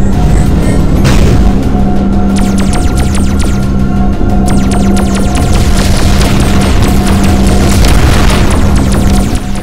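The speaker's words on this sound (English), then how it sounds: "Shoot the energy bombs before they launch!" Energy bombs being shot and exploding in the VR game Voltron, heard as loud continuous booming and throbbing with rapid repeated blaster zaps over a deep droning hum.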